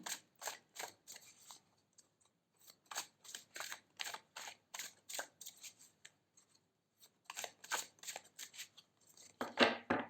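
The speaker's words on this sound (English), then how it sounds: "Let's shuffle." Tarot cards are shuffled in quick crisp riffles, two bursts of rapid clicking separated by a brief pause, close and alone.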